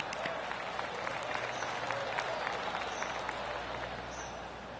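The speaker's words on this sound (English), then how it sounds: "That deserves a golf clap." Polite, restrained golf-clap applause from a small crowd in the video game PGA Tour 2K25, a steady soft patter of clapping that holds evenly and fades slightly at the end.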